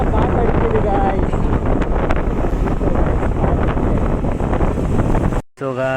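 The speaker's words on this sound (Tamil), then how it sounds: "செம்ம காற்று அடிக்குது" Strong wind buffeting an outdoor microphone with a loud, continuous roar on a rainy day, briefly cut off near the end by a short tonal sound.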